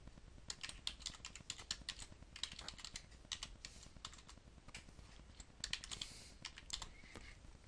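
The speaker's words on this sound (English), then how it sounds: "Type in the server name." Keys clatter on a computer keyboard as a server name is typed, a quick, uneven run of light close taps with short pauses, with no talk.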